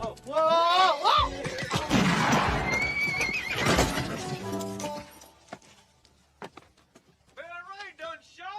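A horse whinnies loudly and shrilly in a cowboy action film scene, the neigh rising and falling over crashing, clattering commotion, then fainter snorts and a second shorter whinny near the end.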